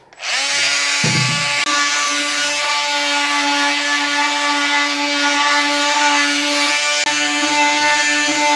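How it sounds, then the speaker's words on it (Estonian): A multifunction power tool fitted with a sanding pad whines steadily against a wooden flower pot, starting abruptly and running loud and continuous for several seconds with no voices. "paneme siia peale lihvpaberi aluse ja hakkame lihvima"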